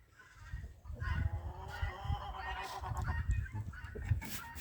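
Brahma rooster and hens in a yard, low clucking and honk-like calls with scratching and shuffling close by, a steady stream of fowl noise.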